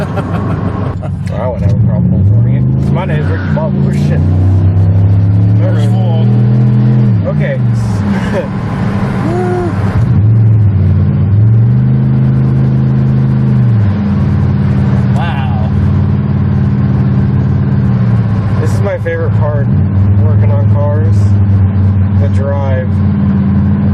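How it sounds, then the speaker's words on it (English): A 2006 Chevy Impala SS with an LS4 V8, factory cam, resonators and mufflers pulls uphill, its exhaust a loud droning rumble that rises and falls under steady talking from inside the car. "It's so loud too, even with 2 resignators and 2 mufflers."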